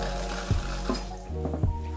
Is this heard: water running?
yes